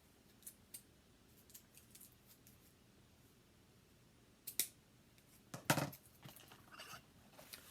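Sharp snips of scissors cutting through ribbon while tying a fall wreath bow on a moss base, two quick cuts close by against a quiet room.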